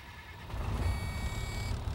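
A fire engine sounding a steady electronic test beep over a low idling engine rumble, the tone repeating evenly and fairly close for the whole moment.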